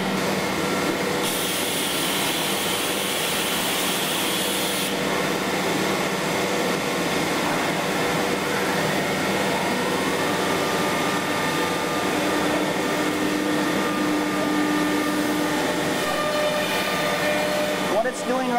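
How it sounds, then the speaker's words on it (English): A CNC router cuts dados into the stretchers and parts of a 48-inch base cabinet, giving a steady, loud machine whine with shifting tones throughout and a brief higher burst near the start, with someone talking over it. "it's cutting the stretchers for the top of the cabinet. It's putting the dados in."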